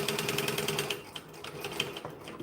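A sewing machine stitching fabric close by, its rapid regular needle clatter running steadily, then slowing into sparser, uneven stitches.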